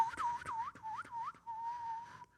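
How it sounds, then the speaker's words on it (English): A person whistles a wavering, sliding tune alone, several rising and falling notes close to the mic, trailing off at the end. "I just learned how to whistle."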